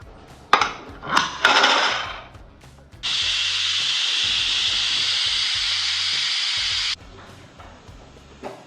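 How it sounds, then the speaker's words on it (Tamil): A pressure cooker whistle lets out a loud, steady hiss for about four seconds while cooking country chicken gravy, preceded and followed by quieter clatter and rustling. "இப்போ 2 விசில் வந்துருச்சு."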